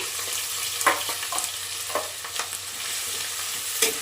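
Green chilies and curry leaves fry in peanut oil for a fish curry. A close, continuous sizzle is broken by brief crackling bursts as the pan is stirred, and no voices are heard.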